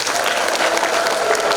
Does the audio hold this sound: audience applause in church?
yes